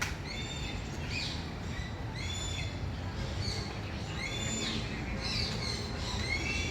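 Birds at a wildlife park in Quezon City call over a constant rumble of outdoor noise, with repeated chirps and whistled squawks coming at irregular moments, some nearer and louder than others.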